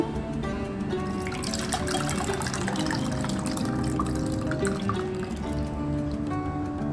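Sweetened milk mixture for mishti doi pours steadily into a bowl, a continuous liquid trickle and splash that runs unbroken and close for the whole stretch, with no talking.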